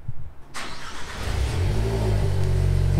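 A car engine fitted with an AliExpress valve exhaust cranks and catches at about half a second, then revs up and settles into a loud, steady rumble.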